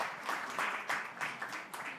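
Audience clapping after a live music set at Bourre in Atlantic City, a steady patter of applause from a modest crowd, fairly faint and continuous with slight swells.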